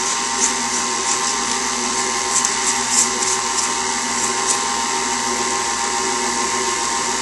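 An electric mixer on low speed beating homemade frosting in a bowl, a continuous close mechanical whir with a steady hum and faint rattling ticks.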